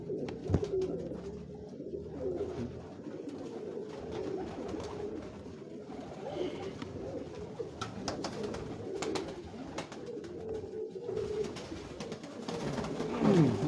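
Pigeons on a rooftop in Lahore cooing in a soft, continuous low rumble, several birds at moderate distance, with faint background noise and no talk.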